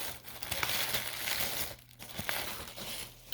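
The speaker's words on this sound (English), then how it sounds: "let's go ahead and unwrap it and see what it is" Crinkling and tearing of plastic packaging as a Gentex fire alarm strobe device is unwrapped, a close, soft rustle with short crackly bursts and no voices.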